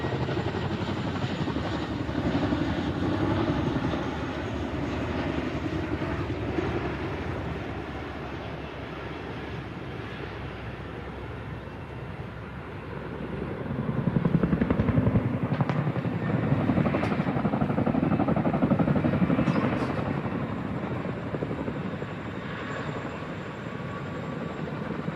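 A military display aircraft flies a manoeuvre at the Farnborough airshow, its engine roar droning for the whole stretch, swelling louder in the middle as it passes nearer, distant and continuous with no talk.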